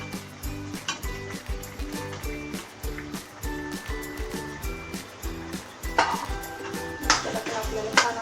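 Soybean chunks tumble into oil-rich fried masala in a cooking pan, giving a run of scraping clatters and soft stirring knocks over steady background music.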